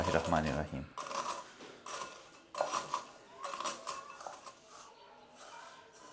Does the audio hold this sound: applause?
no